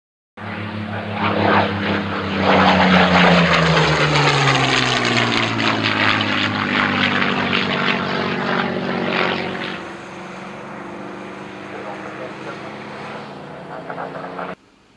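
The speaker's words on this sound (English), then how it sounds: "Shut up, compressor." Air compressor running in a scale-model workshop, a loud droning motor that revs up with a falling pitch, holds steady, then drops to a lower, quieter hum before cutting off.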